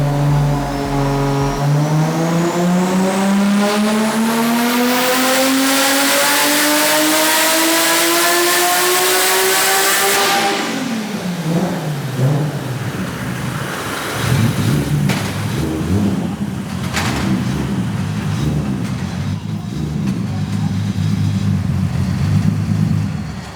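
A Nissan R32 GT-R street car, tuned to around 800 hp, revs hard on a dyno. The loud engine climbs steadily in pitch for about ten seconds, cuts off sharply, then drops to a rough, burbling idle with smaller blips.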